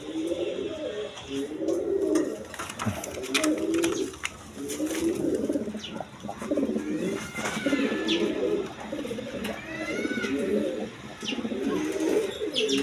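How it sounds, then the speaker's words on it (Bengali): A pair of U-shaped Lahori pigeons, male and female, coo in repeated soft, throaty rolling phrases close by, with a few faint chirps from other birds in the background. "দর্শকবৃন্দ দেখেন এইখানে এক পেয়ার লাহোরি কবুতর আছে ইউ শেপের"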